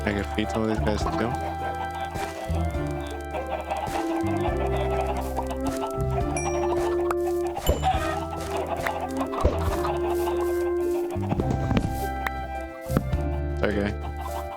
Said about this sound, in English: Got all the chickens.